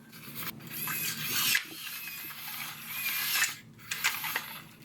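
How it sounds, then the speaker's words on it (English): Servo motors drive the fingers of a prosthetic hand and push a copper pipe around, making close, whirring, ratcheting mechanical buzzes in uneven bursts that rise and fall. "these servos are quite powerful. They start turning themselves and they start moving the copper pipe around."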